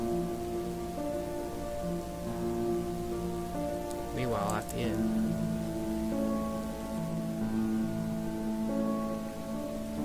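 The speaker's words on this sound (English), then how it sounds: "the unmistakable sound of falling rain could be heard" Steady rain patters and hisses beneath soft background music, with a narrator's voice speaking briefly partway through.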